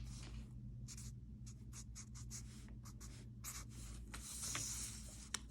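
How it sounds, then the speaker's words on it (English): A pen or pencil scratches steadily across paper while writing out calculus equations for tangential acceleration, a close, quiet run of short strokes and pauses with no talking. "which I'm going to go ahead and write down real quick"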